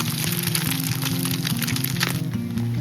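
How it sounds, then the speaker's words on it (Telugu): Eggs go into a hot pan with chopped garlic for Korean-style spinach egg fried rice. A dense, close crackling and popping runs throughout, over a steady tonal background. "ఇప్పుడు అందులోనే ఎగ్స్ వేసుకోవాలి బాగా ఫ్రై చేసుకోండి"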